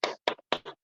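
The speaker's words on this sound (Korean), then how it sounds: "다시 한번 박수 한번 부탁드립니다." A few separate hand claps, five sharp close strikes spaced irregularly within a second, from a small audience at an HR forum talk.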